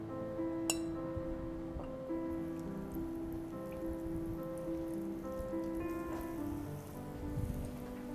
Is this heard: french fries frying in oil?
yes